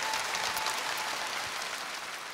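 Studio audience at a televised Korean singing contest applauding a composer's entrance, a dense, bright sheet of clapping that stays loud and even for a couple of seconds.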